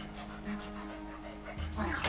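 A dog in the video game Luigi's Mansion 3 gets worked up, panting and whimpering excitedly at close range with a few sharp yips, loud and continuous through the short burst.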